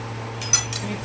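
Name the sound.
spoon mixing sugar into mango in a pot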